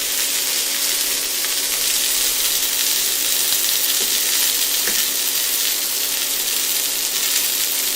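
Chicken pieces browning in bacon grease in a pan give off a steady, dense sizzle and crackle, constant and close with a few faint clicks, no voices over it.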